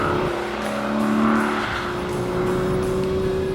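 A 2013 Aston Martin V12 Vantage driven on canyon roads, its V12 engine holding a loud, steady drone with a strong tonal whine that shifts slightly in pitch, heard up close and continuously.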